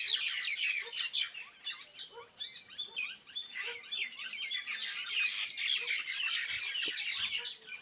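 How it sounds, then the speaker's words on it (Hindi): Dense, continuous chorus of high chirps and calls from many parrots and other birds in trees in a mountain village in Uttarakhand, steady and fairly loud, with a constant insect-like buzz running underneath. "आज तो तोताओं का भी यहाँ पे बसेरा हो गया"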